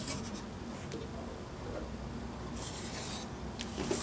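Quilting fabric being cut along a diagonal to square up a 5-inch buzz saw quilt block, heard as a faint, steady rasping rub with a slightly louder scraping burst near the end.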